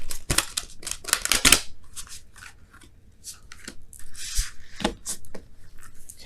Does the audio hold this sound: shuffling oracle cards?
yes